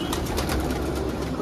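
Punjabi and Madrasi pigeons coo in a flock, a steady low murmur of overlapping calls close by with no voices.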